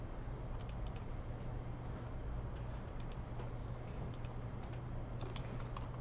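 Keys tap on a computer keyboard in an engineering classroom, with several quick bursts of faint clicking over a steady low room hum and no talking.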